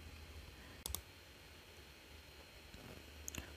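Two quick computer mouse clicks on a login button, crisp and close in a quiet room, followed by a fainter pair of clicks a few seconds later.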